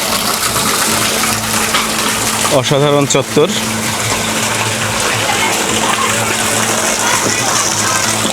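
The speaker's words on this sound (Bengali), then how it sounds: "এখানেও একটা ঝর্ণা দেখতে পাচ্ছি" A park fountain splashes in a steady, full rush of falling water that holds throughout, with a person briefly speaking over it partway through.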